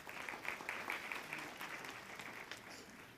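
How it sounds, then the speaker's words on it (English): A conference audience claps steadily for about three seconds, a dense, even patter of many hands with no voices on top. "give yourselves a round of applause"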